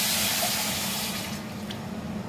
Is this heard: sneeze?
no